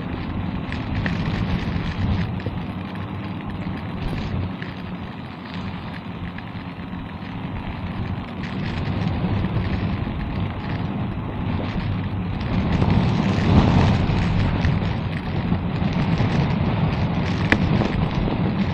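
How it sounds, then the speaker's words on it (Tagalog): A dense, steady roar of typhoon rain mixed with gusting wind, heard while travelling, swelling louder partway through and continuing without letup. "Lakas ng ulan, no?"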